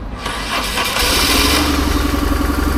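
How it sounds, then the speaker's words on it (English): A BMW R1100GS motorcycle engine cranks briefly on a fresh battery, then catches and settles into a loud, close, steady rumbling idle with a regular pulsing beat. "I actually don't really like how the bike is starting"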